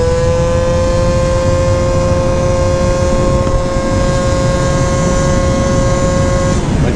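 A Honda Elite AF16 scooter engine fitted with a smart carburetor hums at a steady, even pitch, a close and loud continuous drone with no voices.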